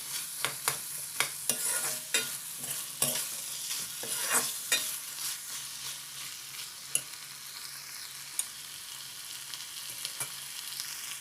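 Chickpeas and potatoes frying in a pan, a soft steady sizzle with repeated scraping stirs near the start that thin out later.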